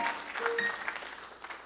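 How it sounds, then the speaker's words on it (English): A church congregation applauds briefly, a soft wash of scattered clapping that fades over under two seconds. "Yes, it's worth that applause"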